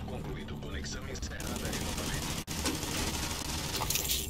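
Rapid automated turret gunfire in The Division 2, a dense continuous stream of shots that runs almost unbroken through the scene with a brief gap midway, amid other game noise and a voice talking.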